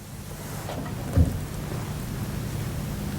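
Heavy rain pours steadily during floods near the Chambal river in Morena, with a dull thunder rumble swelling briefly before the downpour continues as a dense, even hiss.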